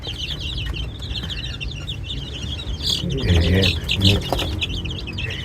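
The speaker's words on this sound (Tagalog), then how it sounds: "Yung mga sisiw naman, lumalapit talaga yan para makipaglaro sa kanya." Chicks at play peep in a continuous, busy chorus of high chirps close by. Clucking hens and a voice speaking briefly are mixed in.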